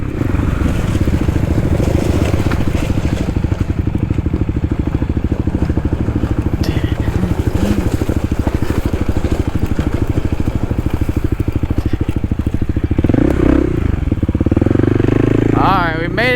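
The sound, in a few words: Kawasaki KLX 300 dual sport motorcycle riding on trail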